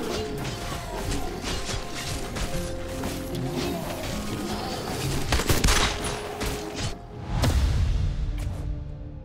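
Rapid gunfire from shooting zombies in the video game Doomsday: Last Survivors, a dense loud fusillade of bursts and cracks with mechanical clatter and crashes, briefly dipping before resuming.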